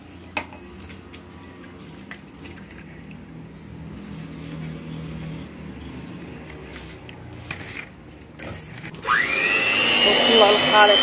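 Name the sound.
beating eggs and sugar for cake batter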